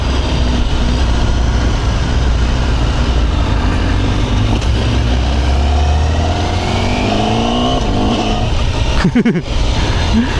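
A Honda CBR1000RR-R Fireblade sportbike is ridden at high RPM with a loud, sustained engine roar. Its pitch climbs and then drops through gear shifts, followed by a brief burst of rapid mechanical clatter near the end.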